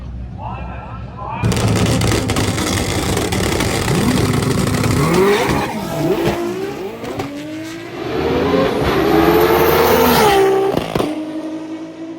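A Toyota Supra race car accelerating hard in a street race, a loud engine note rising through the gears with shifts and a second climb before cutting off, under talk.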